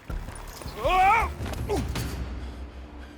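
A stuck wooden door in the video game Horizon Zero Dawn creaks open with a loud, drawn-out groan, followed by a couple of dull knocks and low rumbling over a steady background.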